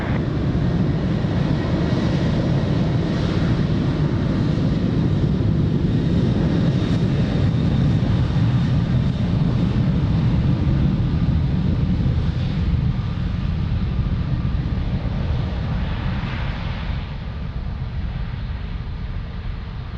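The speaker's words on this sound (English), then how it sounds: "Clear for takeoff for runway 22, Ryanair 91 X-ray Lima." At Lisbon Airport, an airliner takes off from the runway with a loud, sustained engine roar that holds steady and then slowly fades toward the end.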